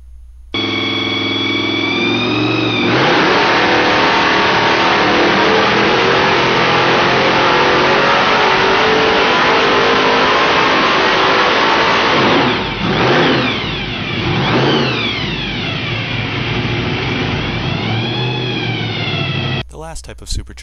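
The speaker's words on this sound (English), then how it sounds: "This video is of a small block Ford engine with a roots blower mounted on top of it." A small block Ford engine with a roots supercharger roars continuously, its pitch climbing and falling as it revs up and down repeatedly, heard close and steady throughout.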